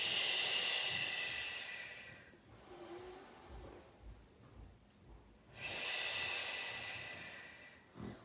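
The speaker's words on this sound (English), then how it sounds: "Take your inhale, exhales." Slow breathing during a Pilates exercise, a soft, close airy exhale followed by a pause and another long breath out, quiet and unhurried with no talking.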